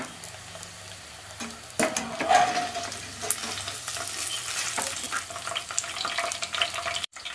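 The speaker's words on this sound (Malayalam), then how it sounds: "എണ്ണ ചൂടായി, നമുക്ക് മക്രോണി അങ്ങ് ഇട്ട് കൊടുക്കാം." Macaroni deep-frying in hot oil for homemade Kurkure, a steady close sizzle and bubbling that jumps louder at about two seconds as the pasta goes in, with occasional stirring clinks.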